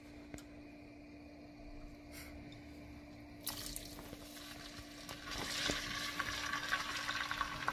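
Eels being stir-fried in a pan: a few sharp clicks and spatters at first, then the frying grows into a denser, crackling sizzle over the last few seconds, fairly quiet and close.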